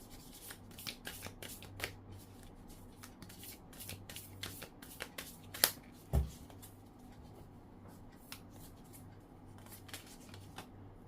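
A deck of tarot cards is shuffled by hand, giving soft, close rustles and quick riffling taps in an uneven rhythm, quiet and without talk.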